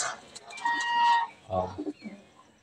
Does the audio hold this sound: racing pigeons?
yes